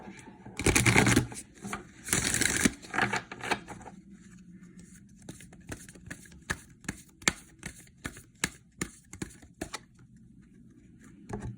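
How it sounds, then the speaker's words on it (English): A Sacred Rebel oracle card deck is shuffled, first in two loud riffling bursts, then in a run of quick, crisp card slaps and taps, close and without talk. "I'm going to pull one more card from the Sacred Rebel deck"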